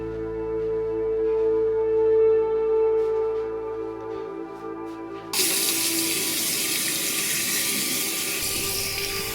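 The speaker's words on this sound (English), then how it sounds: "I splashed myself with cold water, trying to escape from this horrible reality" Water runs steadily from a tap, starting abruptly partway through after a low humming background, then pouring on continuously.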